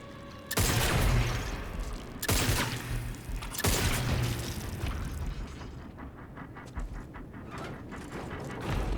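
Gunfire from The Callisto Protocol: loud, booming shots at about 0.5, 2.2 and 3.7 seconds, each leaving a long rumbling tail, with lighter mechanical clatter and impacts continuing underneath the game's dense ambience.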